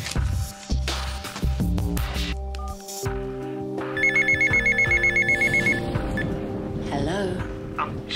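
A telephone rings in a run of rapid, trilling electronic bursts midway, mixed with other indoor tones and background sounds in a drama scene; no one speaks.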